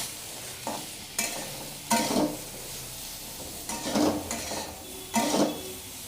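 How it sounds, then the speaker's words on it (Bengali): Banana flower fries in a pan while a spatula stirs it. The steady sizzle is broken by several loud scraping bursts of stirring against the pan. "মোচাগুলি আমার ভাজা হয়ে গেছে"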